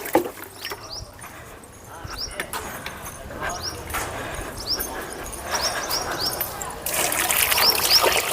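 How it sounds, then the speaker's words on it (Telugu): Water is poured into soil in a potted papaya plant, splashing and trickling unevenly, with bird chirps in the background and a voice talking over it. "ఇట్లా వాటర్ వేసుకున్నానండి."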